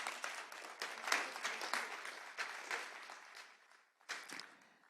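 Audience applause during a round-table event in France, a steady wash of many hands clapping at moderate loudness, fading briefly near the end before a fresh burst.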